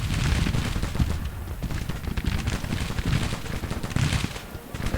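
Dense, continuous crackle of musket fire from skirmishers in a Civil War strategy game battle, a steady fusillade of overlapping shots with heavier thumps, loud and sustained throughout.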